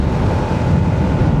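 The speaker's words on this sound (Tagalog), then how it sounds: "Ang lakas pati ng hangin." Strong wind roars steadily at a highland campsite overlooking Tagaytay and Calamba, battering the microphone with a constant, loud, buffeting rush and no talk.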